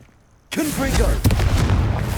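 Confringo blasting spell in the Hogwarts Legacy video game: after a brief quiet, a sudden loud boom erupts, followed by a rolling blast and a second sharp burst, with a voice heard amid the noise.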